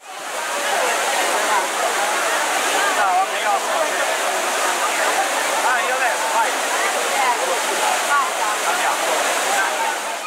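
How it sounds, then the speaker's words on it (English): Gushing water of a fountain in a square in central Rome, a steady, dense rush of spraying and splashing water that holds at an even, loud level throughout with no gaps. "the sound of its gushing waters grows constantly more intense, reaching a crescendo in the square"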